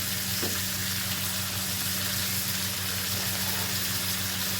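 Panch phoron spices temper in hot oil for a prawn dish, producing a loud, dense, unbroken sizzle with a low hum beneath and no talking.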